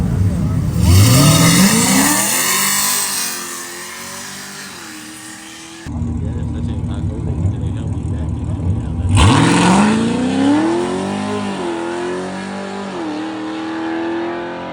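A no-prep drag race car launches hard twice, its engine revving up in rising, roaring sweeps with a brief quieter gap between runs. The car is loud and close throughout.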